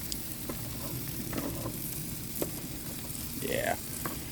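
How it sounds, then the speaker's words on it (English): Shrimp sizzle steadily in garlic butter in an aluminum pan, with a few brief scraping stirs and a louder hiss near the end, close and alone without speech. "Shrimp, I think, are just about done. Gonna stir them up."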